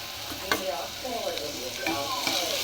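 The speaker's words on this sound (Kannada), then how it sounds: "ಇದೆಲ್ಲ ಫ್ರೈ ಆದಮೇಲೆ ಟೊಮೊಟೊ ಆ್ಯಡ್ ಮಾಡ್ತಾಯಿದ್ದೀನಿ" Tomato goes into frying masala in a pan and is stirred, giving a steady sizzle with scraping spoon strokes and a few sharp clinks, close and moderately loud.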